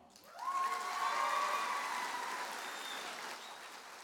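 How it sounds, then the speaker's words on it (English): Warm applause from a large crowd of Kansas FFA convention members fills a hall, rising quickly after a brief lull and holding as a steady, dense wash of clapping that tapers slightly toward the end. "Please give a warm round of applause"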